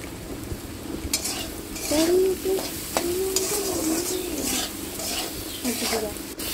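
An egg fries and is stirred in a pan, with a continuous sizzle punctuated by repeated scraping strokes of the spatula; the cooking sounds are close and moderately loud, with a faint bird call in the background.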